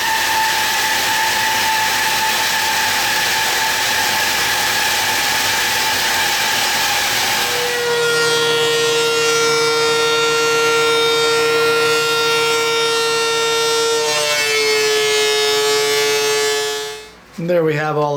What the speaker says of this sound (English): over to the bandsaw and we're going to resaw some of this